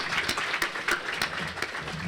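Applause from the audience at Buena Park's 2024 State of the City event for city staff, a steady dense wash of clapping throughout with no talk over it.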